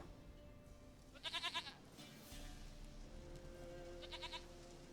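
Goat bleating in The Witcher 3, two short bursts of rapid, wavering bleats against a steady game backdrop of ambient hum and music, the first around mid-clip and a fainter second near the end.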